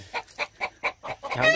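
Two roosters squabble over pecking order, giving a quick run of sharp, evenly spaced clucks that build into a louder, rougher squawk at the end, close by.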